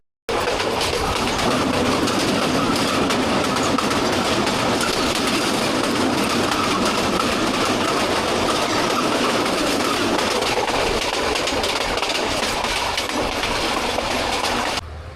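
A passenger train rolls steadily along the rails near Melandah railway station, Bangladesh, with a continuous rumble and rhythmic clatter of wheels, loud and close throughout.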